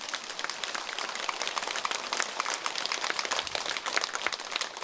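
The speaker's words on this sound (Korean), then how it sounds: "그렇다면 박수 한번 쳐보세요." A church congregation claps during a Catholic priest's homily, a faint, steady patter of scattered applause with crinkly texture lasting throughout.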